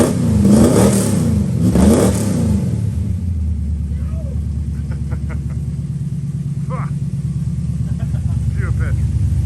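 A Chrysler VG Valiant Hardtop engine, running for the first time in years, revs loudly twice up close, then settles into a steady, rough idle rumble while people talk briefly.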